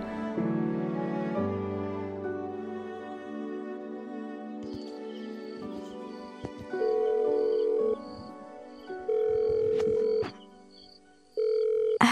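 A telephone call placed around 2:30 at night: after a stretch of steady tonal sound, a ringback tone pulses on the line in repeated evenly spaced bursts with short silent gaps, clear and fairly loud, with no talking.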